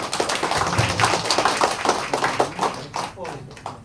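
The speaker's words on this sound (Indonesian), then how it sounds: "tepuk tangan dulu dong" An audience claps at a graduation ceremony, a brisk run of many scattered claps that thins out toward the end, with voices talking over it.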